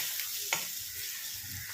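Crushed ginger, garlic and green chili fry in a pan for an Assamese pork dish, a steady sizzle and hiss with a quick stir scrape partway through, close and without talk.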